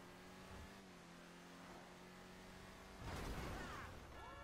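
Car traffic in the GTA V video game, with a steady engine hum that swells into a louder revving rush near the end, alone without talk.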